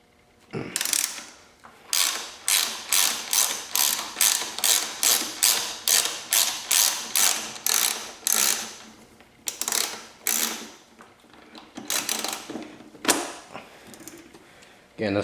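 A ratchet clicks in quick, regular bursts as it loosens 6 mm Allen bolts on the rear subframe of a YZ250F motocross bike, close and loud, with pauses between strokes and a few scattered clicks later.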